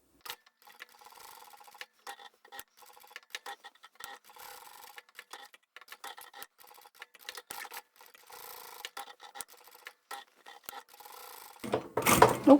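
A sewing machine stitches around a fabric rectangle for a reusable shopping bag, running in short bursts with brief pauses, fairly quiet, ending with a louder handling clatter.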